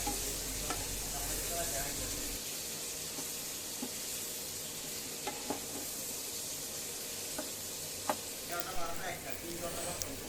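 Eggplant and potato pieces fry in a hot pan with a steady, full sizzle, broken by scattered clacks and scrapes of stirring, close and continuous.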